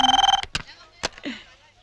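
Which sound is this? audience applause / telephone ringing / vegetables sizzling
telephone ringing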